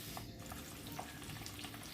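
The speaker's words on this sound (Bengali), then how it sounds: "তেল গরম হয়ে এসেছে, তো আমি মাছগুলোকে আস্তে আস্তে ছেড়ে দিয়েছি।" Pabda fish sizzle as they fry in hot mustard oil in a wok, a soft, steady crackle with faint pops throughout, fairly quiet and with no talking.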